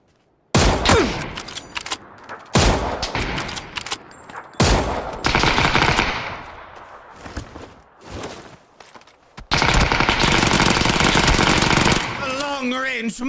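Micro UZI bursts in the PUBG video game, several loud rapid-fire volleys separated by short pauses, with footsteps and a brief voice in between.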